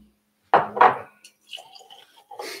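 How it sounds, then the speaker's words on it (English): Bourbon is poured heavily into a glass in two quick, splashy gurgles close by, followed by lighter clinks and faint glassware sounds. "He's doing these heavy pours"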